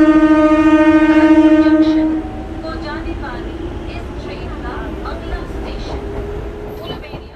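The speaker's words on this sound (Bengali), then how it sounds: "লোকাল ট্রেনে।" A local train runs on the line from Howrah to Kharagpur. It opens with a loud, sustained horn blast that cuts off after about two seconds, followed by the steady rumble and rattle of the moving carriages.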